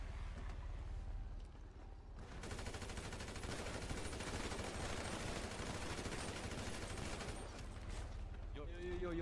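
Sustained bursts of gunfire fill a GTA street shootout, dense and loud throughout with rapid overlapping shots, while voices talk over the fight.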